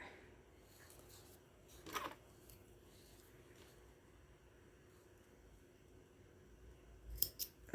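Scissors snip embroidery thread on a cross-stitch canvas, two quiet close cuts several seconds apart against a faint still background.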